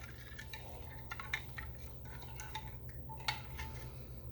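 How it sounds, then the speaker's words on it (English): A spoon stirring a mandarin orange gelatin salad mixture in a bowl, faint scraping with a few light clinks against the sides, close and quiet, with no voices. "I'm just going to stir this up till it gets blended real well"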